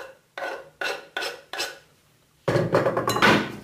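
Finely minced garlic cloves are stirred with a utensil in sesame oil in a pan: four separate scraping clinks, then a steadier burst of busy stirring and sizzling noise.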